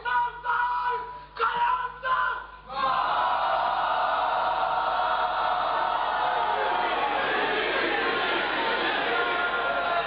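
A crowd audience at a religious gathering shouts a slogan together, a loud massed chant of voices after a few brief broken bursts, sustained and roaring to the end.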